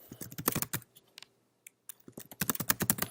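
Close-up typing on a computer keyboard, rapid bursts of crisp key clicks that pause briefly in the middle and then resume in a fast cluster, with no voices.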